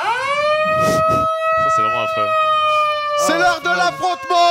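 A loud, sustained wailing siren in a video game holds steady throughout, close and dominant, while someone talks over it in French.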